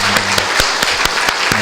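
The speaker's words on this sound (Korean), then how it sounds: "하나님께 영광의 박수를 드리겠습니다" Church congregation clapping at a Sunday worship service, a loud, close burst of many hands with distinct sharp claps standing out in an uneven rhythm.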